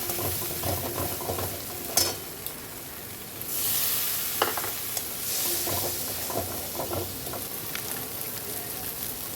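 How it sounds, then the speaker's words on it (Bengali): Prawn malaikari masala with ground cashew, fennel and chili powder stir-fried in a pan, a continuous sizzle with intermittent scraping stirs and bursts of steam hiss, no speech. "এবার আমি একটু আবারও কষাবো"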